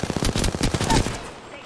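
Rapid automatic gunfire in Apex Legends, a quick burst of loud close shots in a tight rhythm for about a second before trailing off, with a voice briefly audible.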